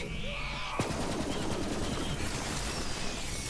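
Rapid gunfire in Borderlands 3, a dense continuous burst of shots with a sharp crack near the start, loud and close amid busy game effects.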